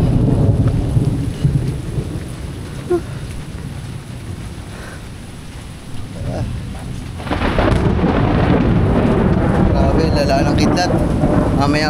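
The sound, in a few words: thunderstorm with continuous thunder and light rain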